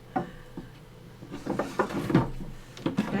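A wooden drawer from a handmade pastel art box is handled, giving a series of light knocks and scraping slides over about three seconds, close by and moderately loud, with no one talking.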